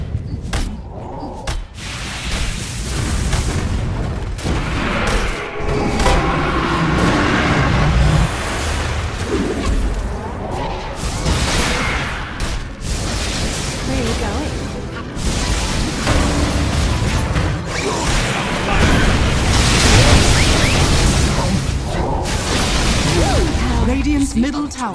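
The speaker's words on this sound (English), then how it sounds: "Dire's middle tower is under attack." Dota 2 match in which the Dire middle tower comes under attack: a continuous dense barrage of combat bursts, hits and booms layered over game music and effects, loud and busy throughout, with voices talking.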